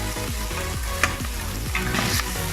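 Pinakbet ingredients with meat fry in their own rendered oil, giving a loud, close, continuous sizzle with a few sharper spits and pops.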